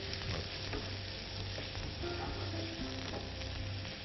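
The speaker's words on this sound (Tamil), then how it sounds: "அந்த வெங்காயத்தை நம்ம சேர்த்துக்கிறோம்." Chopped onions sauté in a hot pan for Thanjavur prawn tamarind curry, giving a loud, continuous sizzle and crackle with occasional stirring scrapes, and no voice over it.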